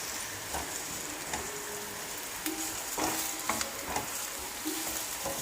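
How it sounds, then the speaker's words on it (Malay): Onions drop into hot oil in a pan for sambal tumis and fry with a steady, soft sizzle, broken by a few light stirring clicks close by, with no talk. "Jadi kita masukkan bawang."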